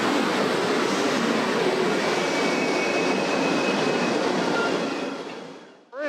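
A slow first-class train bound for Warsaw, Poland, rumbles along the rails with a steady, dense roar of wheel and carriage noise that holds throughout, then dips sharply near the end.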